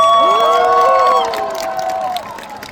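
A large crowd at a Korean presidential campaign rally in Ulsan cheers and applauds loudly and steadily, with a sustained rising tonal cry or horn riding over the roar before it eases slightly.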